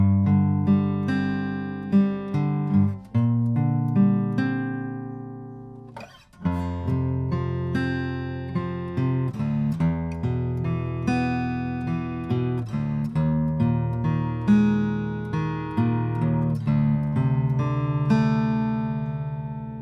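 An acoustic guitar picks out the gentle intro of a song in plucked notes and ringing chords, unaccompanied, with a steady flowing rhythm and one brief pause.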